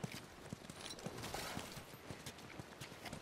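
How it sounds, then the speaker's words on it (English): Horse hooves clip-clop in a steady walking rhythm in a video game, the soft repeated hoofbeats sitting low under a constant ambient hiss of wind and environment. "You guys have horses."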